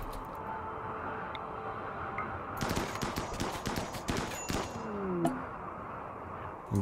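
Gunfire in the video game RimWorld, a rapid cluster of sharp shots in the middle of the clip over a constant low game background hum.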